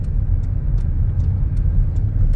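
A car rumbles along at close range, its engine and tire noise a steady low drone while it pulls up to park beside a rural lot near a river and rice mill.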